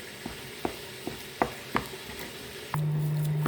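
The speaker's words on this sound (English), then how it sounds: "I'll keep stirring and mix the content very well." Egusi soup is stirred in a pot, with a handful of soft spoon scrapes and taps at an uneven pace over a faint simmer, followed by a steady low hum.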